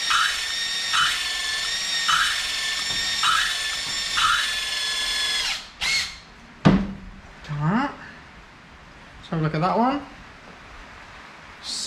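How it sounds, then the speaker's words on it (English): A power drill whirs in several short, steady bursts with a high whine while porting a turbocharged Hayabusa motorcycle cylinder head, followed by a few brief scraping and clunking handling noises nearby. "You can use a drill and you'll be a little bit more"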